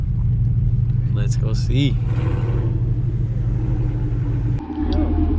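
A Camaro SS V8 idles with a deep, steady rumble close by, a brief voice cutting in over it and a short dip near the end before the throb resumes.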